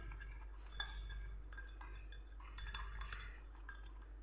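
A spoon stirring a homemade hair-dye mixture with a little olive oil in a bowl, soft close clinks and scrapes repeating quietly.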